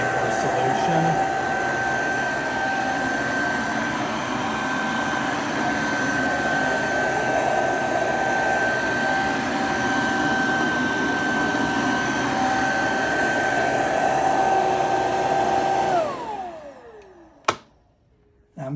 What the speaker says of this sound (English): now it will just suck up, and the brush is still spinning, but it's not putting down any more solution.